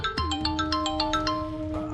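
A phone's electronic ringtone plays loudly and close, a rapid run of repeated bright tones over a sustained hum, with no talking.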